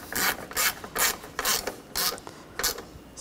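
A ratchet wrench snugs down bolts while a downstream O2 sensor is replaced on a 2013-2019 Ford Escape, giving about eight crisp ratcheting bursts in a steady rhythm, close and clear, with no talk.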